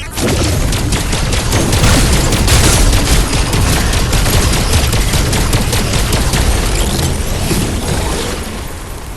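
Fireworks burst in the Wayfinder game during an Eventide holiday event, a dense, continuous barrage of loud crackling and popping booms that rolls on for several seconds before easing slightly at the end.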